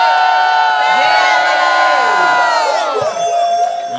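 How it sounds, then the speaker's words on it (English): A live radio show audience at the Icehouse venue in Minneapolis cheers loudly, a dense sustained crowd roar with whoops and shouts that stays strong throughout and eases slightly near the end. "Make some noise, Minneapolis!"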